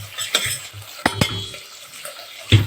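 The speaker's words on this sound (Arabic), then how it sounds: "احنا هنحط الفراخ الاول تتشوح وتنزل الميه بتاعتها" Chicken pieces sautéing in a pan as their water cooks off: a low sizzle broken by a few sharp scraping strokes and clinks of a utensil against the pan, fairly close.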